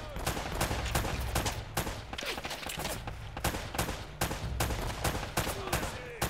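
Rapid bursts of gunfire from the video game Uncharted: Drake's Fortune, loud sharp shots and automatic volleys cracking repeatedly throughout, with a player's voice faintly in the background.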